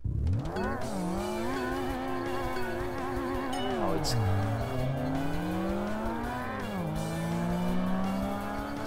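Blitzen AMG Merc engine in the racing game Tokyo Xtreme Racer Drift 2, revving high and steady with pitch rising and falling through gear changes, loud and continuous, with a brief tire squeal partway through.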